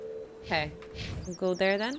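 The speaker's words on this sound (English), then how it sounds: "Oh, I heard a bird chirping." A bird chirps a few short notes in Mass Effect Legendary Edition, mixed with tonal game sounds, while a person talks over the brief calls at close range.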